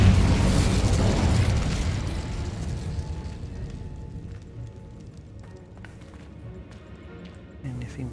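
An Incendio fire spell cast in a video game, a loud opening whoosh and fiery burst that fades over a few seconds into quieter crackles and light clatters.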